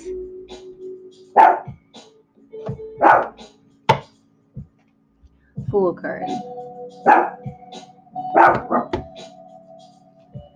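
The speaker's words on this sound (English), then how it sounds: "Sorry for my dog acting like a lunatic." A dog barks in loud, repeated bursts between stretches of talk, with sharp yelps breaking over a person's voice.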